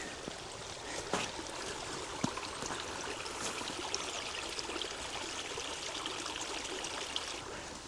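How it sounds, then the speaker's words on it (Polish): A large, high-running stream flows near a garden greenhouse site, a steady broadband rushing and gurgling with occasional small splashes, close and continuous without speech. "nie wiem, czy słyszycie, jak płynie ten duży strumień"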